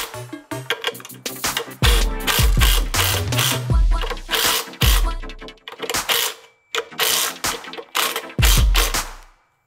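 A hand ratchet tightening bolts on the cast hangers of a Trailmaster MB200 mini bike, rapid close clicking bursts in uneven runs separated by short pauses, loud and near with no voices.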